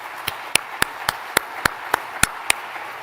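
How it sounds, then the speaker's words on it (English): Steady, evenly spaced hand claps, about ten sharp strikes in three seconds, sound close and distinct against a quiet hall as the crowd applauds school principals at a district back-to-school kickoff. "let's give our principals a round of applause"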